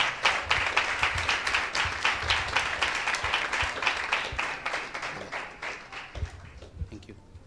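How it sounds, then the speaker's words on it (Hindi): A church congregation gives hearty applause, dense rhythmic clapping that stays loud and steady before gradually thinning and fading out toward the end. "प्रभु यीशु मसीह के पवित्र नाम से एक जोरदार ताली देंगे परमेश्वर के नाम की महिमा के लिए।"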